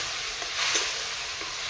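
Spices with amchur powder sizzle in a pan after a splash of water is added, a steady close hiss with faint stirring scrapes, no speech.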